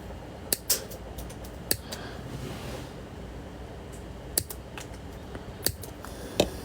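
Wire cutters snip metal wire while making a ring: several sharp, close clicks scattered irregularly over a quiet background hiss.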